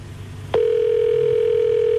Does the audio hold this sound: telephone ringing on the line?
yes